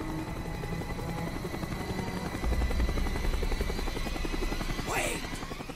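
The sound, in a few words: helicopter flying overhead in Call of Duty Black Ops video game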